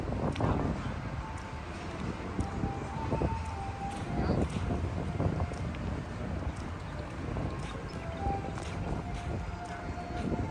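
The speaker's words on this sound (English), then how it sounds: "A little windy out here today, so apologize if you hear a little bit of wind" Steady wind buffeting the microphone outdoors on a walk at Disney's Epcot, a continuous low rumble with gusty swells throughout, loud and close.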